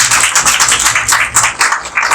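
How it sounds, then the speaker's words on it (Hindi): An audience at a Women's Day corporate empowerment event applauds to welcome a guest onto the stage, dense steady clapping from many hands filling the room at fairly close range, with no talk over it. "तालियों के साथ इनका स्वागत करें।"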